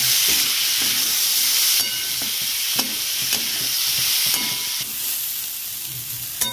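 Whole masoor dal frying in a pan with onions, salt, cumin and coriander powder, a loud steady sizzle that shifts in intensity as it is stirred, with spatula taps against the pan.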